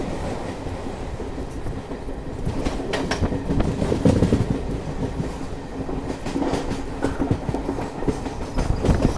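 A Garib Rath express passenger train rolls along the rails toward Mansi Junction, with a continuous rumble and rhythmic clickety-clack of wheels over rail joints heard from inside the carriage.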